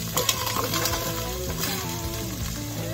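Half an onion drops into a hot pan of melted fat and starts to sizzle, with clattering and stirring over background music.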